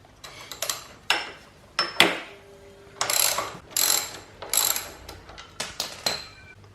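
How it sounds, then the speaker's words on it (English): A ratchet clicks in quick, close bursts while undoing bolts on the bash plate of a Yamaha Tenere 700 off-road motorcycle, with short pauses between each run of clicks. "On the left hand side of the bike we just need to undo these 2 bolts here."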